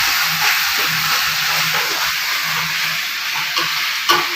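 Papaya leaves and cassava stir-fry in a pan with a steady loud sizzle and hiss, broken by soft scraping stirs and a brief clack near the end.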